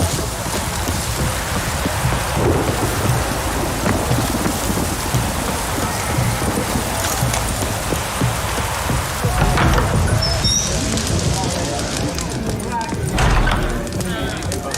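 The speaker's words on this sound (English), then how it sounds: "A storm, damn it." Steady heavy rain of a thunderstorm in The Witcher 3 pattering on surfaces with a low rumble underneath, continuing throughout with brief brighter splashes toward the middle.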